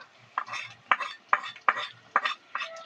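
Chopped onions are stirred and lightly fried in a pan for masala pulao, with six evenly spaced scraping spoon strokes against the metal over a faint sizzle, close and alone without speech.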